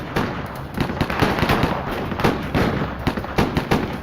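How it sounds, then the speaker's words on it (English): Rapid, crackling gunfire as police and FBI agents trade shots with a fugitive cop killer, dense overlapping pops and bursts that run steadily through the whole stretch without pause. "While police and agents traded fire with the cop killer"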